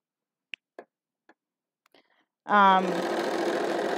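A sewing machine stitching winter hats starts up after a few faint clicks and ticks, then runs in a loud, steady whir close by.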